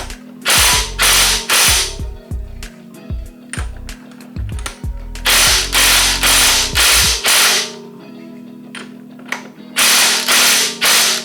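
A hand ratchet tightens the pinion nut on a Chevy 12 bolt rear axle during a rebuild, making loud, close bursts of rapid clicking separated by short pauses, with no talking.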